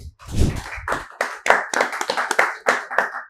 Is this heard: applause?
yes